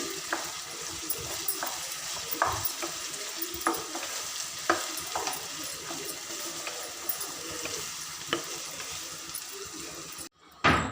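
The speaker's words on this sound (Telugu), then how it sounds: "ఆ పేస్ట్ యొక్క స్మెల్ మొత్తం పోయేంత వరకు బాగా ఫ్రై చేసుకోవాలండి" Chicken with ginger garlic paste fries in a pan, a continuous close sizzle with intermittent spoon scrapes and stirs, ending in a brief gap and a sharp clatter.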